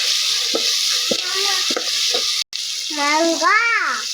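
Curry leaves are stirred and fried in a pan for a village-style fish curry, a steady hiss broken by a few soft knocks of the spoon, ending with a brief voice-like warbling tone over the sizzle.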